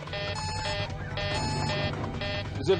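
A cockpit warning alarm aboard Helios flight 522 sounds in repeated pulses, a harsh electronic tone cycling on and off steadily, close and loud, with no talking.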